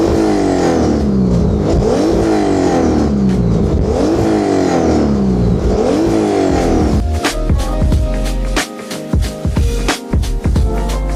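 A BMW M54B30 engine runs indoors in a workshop, revved repeatedly in loud rising sweeps before settling into a rough, rattly idle with uneven pulses.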